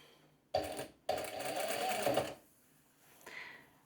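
Close sewing machine stitching a drawstring skirt, a short burst followed by a longer steady run of rapid mechanical stitching, then quiet handling sounds.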